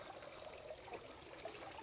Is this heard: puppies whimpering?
no